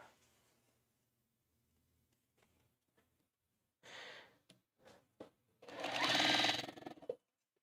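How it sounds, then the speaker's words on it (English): A sewing machine stitching cotton fabric pieces together runs in short bursts, then a longer, louder run of rapid stitching near the end, with quiet breathing and handling noise between bursts. "I'm just going to sew it to the next one."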